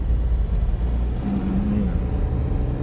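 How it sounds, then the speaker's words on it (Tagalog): Steady road traffic at dawn, with many cars passing in a continuous loud low rumble and a brief engine drone partway through. "Ang dami sasakyan"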